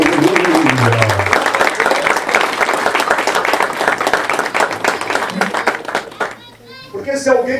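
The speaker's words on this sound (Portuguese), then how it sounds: "Quantos aplaudem ao Senhor por isso?" Church congregation clapping during a talk for couples, a dense burst of applause that runs for several seconds before tapering off, with a voice heard briefly at the start and again at the close.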